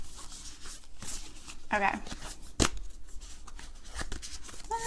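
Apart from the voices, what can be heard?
shuffling rough animal oracle cards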